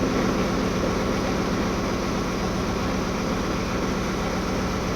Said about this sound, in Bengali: ইঞ্জিন রুমের ইঞ্জিন